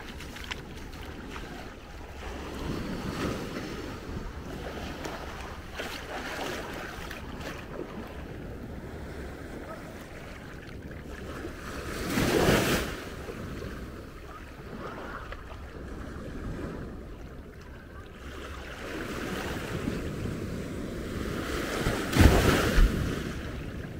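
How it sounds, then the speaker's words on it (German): Ocean waves wash steadily at Maspalomas on Gran Canaria, a continuous broadband surge with swells at intervals and wind buffeting the microphone, no voices present. "Wie am Weiher, so hört sich das hier an, zwischen den Wellen."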